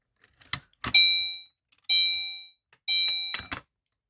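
A pulled-down fire alarm station set off during a home fire alarm installation sounds three loud, steady tonal blasts of about half a second each, spaced roughly a second apart, with mechanical clicks and thunks before and after.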